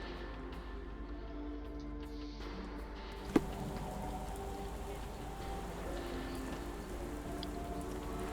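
Steady rain falls in the Sherlock Holmes The Awakened video game, a soft, even hiss that continues unbroken throughout, with one brief sharp knock partway through and no talking.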